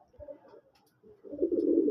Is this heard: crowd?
no